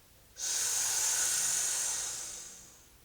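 A long, steady breath exhaled through the mouth, a close, airy hiss that starts abruptly and slowly fades over a few seconds.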